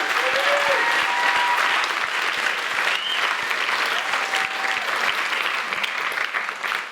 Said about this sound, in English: can we give a round of applause to the entire first round crew for what they've done?